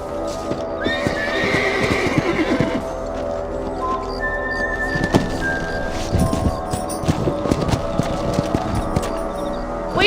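Horse hooves clip-clop on the ground in Red Dead Redemption, with repeated loud neighs and whinnies over the steady beat of hoofbeats, and no talking.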